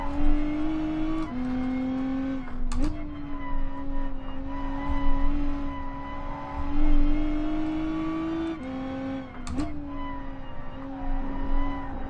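A Lotus race car in Gran Turismo Sport laps the Nordschleife with a sustained, high-revving engine whine, dipping briefly at gear changes and corners while the revs climb and fall continuously.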